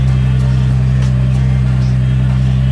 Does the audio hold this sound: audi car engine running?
yes